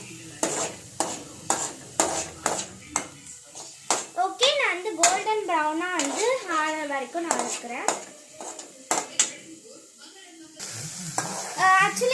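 Ingredients browning to golden in oil in a pan for spaghetti pasta, with a quick burst of scraping stirs and a sizzle running under a voice that talks through most of the stretch.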